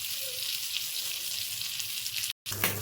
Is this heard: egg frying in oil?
yes